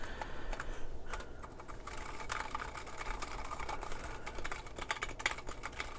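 Steady typing on a mechanical keyboard, a dense patter of key clicks at a normal pace, close by and without any talking.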